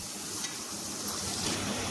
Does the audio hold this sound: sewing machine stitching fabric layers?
no